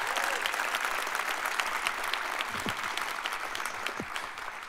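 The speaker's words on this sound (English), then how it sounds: "Can you give it up for another round of applause for us, please?" Crowd applause at a welcome event for a new men's basketball head coach, steady clapping filling the whole stretch at moderate loudness with no speech over it.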